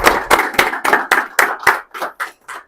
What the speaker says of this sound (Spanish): Un aplauso, Pastor Adolfo